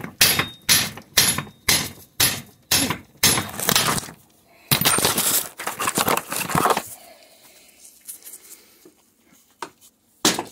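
Hammer blows drive a bushing into a part braced on the edge of a bench vise during front-end work on a 1982 Buick LeSabre diesel: about ten sharp metallic strikes in a steady rhythm, then a burst of clanking and a quieter pause with a last tap.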